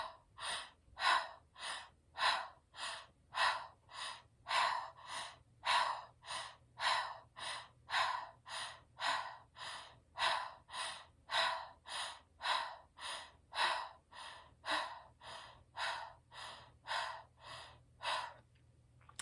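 Rhythmic forceful breathing during a kundalini kriya for happiness, about thirty even sharp breath cycles in steady succession, close and clear with no talking.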